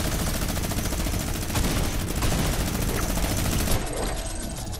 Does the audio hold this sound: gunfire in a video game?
yes